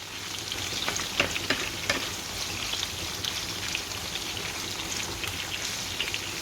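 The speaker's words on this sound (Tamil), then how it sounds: "கொஞ்சம் பொரியணும்" Chicken pieces frying in hot oil for chicken noodles, a steady dense sizzle with crackling pops and spatters running throughout, close and moderately loud with no voices.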